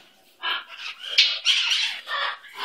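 A small pet bird squawks in a string of short, harsh calls, about six bursts over a few seconds, close and clear with no other sound around.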